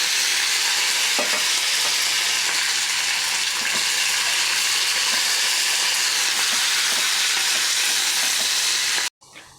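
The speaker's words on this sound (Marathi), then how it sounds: "आपला तडका आता छान तळून झालेला आहे डाळी पण छान तळल्या गेल्या आहेत" Urad and chana dal with cumin frying as a tadka in hot oil, a steady loud crackling sizzle that runs unbroken, with faint stirring taps, before stopping abruptly near the end.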